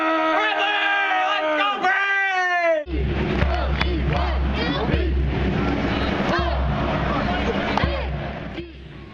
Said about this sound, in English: We always yell.